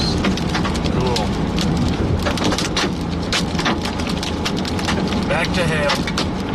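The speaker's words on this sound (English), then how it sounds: "Got more hail falling," Quarter-sized hail pelts down during a severe thunderstorm with a tornado warning in the Dallas–Fort Worth area, a dense, steady clatter of impacts mixed with heavy rain, loud and continuous throughout.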